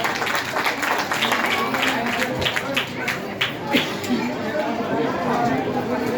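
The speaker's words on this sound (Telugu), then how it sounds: "చప్పట్లు కొట్టండి అందరూ." An audience claps at a felicitation ceremony on the final day of a Bhagavatam saptaham recitation at a religious math, scattered applause mixed with crowd chatter and a voice speaking over it.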